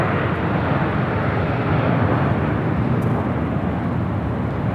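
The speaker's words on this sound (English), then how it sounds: "Qantas Flight 11 coming in from Sydney, Australia." A Qantas airliner arriving from Sydney on the north-side runway at LAX makes a continuous broadband engine roar, loud and steady, with no talk over it.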